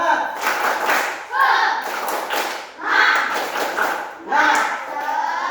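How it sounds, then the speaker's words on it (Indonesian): Schoolchildren in a classroom perform a rhythmic spirit clap, with bursts of group clapping and chanted voices repeating in regular phrases, loud and close. "kita tepuk semangat dulu"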